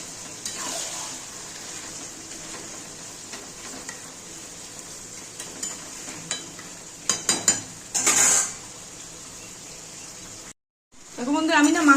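A pot of mutton and potato kosha is covered and stirred, with a faint cooking hiss broken by scattered clanks of utensil on pot, a burst of scraping and a lid clatter near the end, followed by a brief voice.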